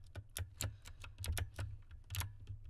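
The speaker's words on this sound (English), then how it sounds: "I'm sorry for the loud keyboard" A computer keyboard clacks loudly and close up, with irregular bursts of sharp key strikes and a low thump under them, while a puzzle map game is being played and no one speaks.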